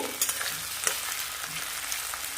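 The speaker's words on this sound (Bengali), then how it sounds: "এরপর দিয়ে দিলাম কেটে রাখা টমেটোর টুকরোগুলো। এবার ভালো করে মিশিয়ে" Chopped tomatoes and cabbage fry in a pan, a steady close sizzle with soft scraping stir strokes throughout.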